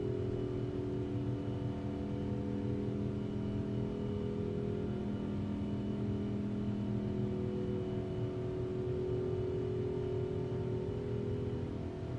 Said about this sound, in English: Whoa, listen to those engines, that's crazy.